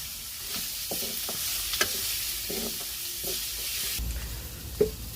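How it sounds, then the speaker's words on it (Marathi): Masala paste for a village-style crab curry fries over a wood-fired stove, a steady hissing sizzle with occasional stirring scrapes and knocks in the pan. "आता याला मस्तपैकी आपण आता याला भाजून घेणार आणि मसाल्याला शिजवून घेणार"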